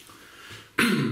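A person coughs abruptly after inhaling from a Himalayan salt pipe, a single harsh, close throat-clearing cough following a quiet breathy lead-in.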